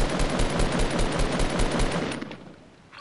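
Rapid automatic gunfire in the battle royale game Fortnite, a dense continuous burst of loud shots for about two seconds before cutting off into near quiet.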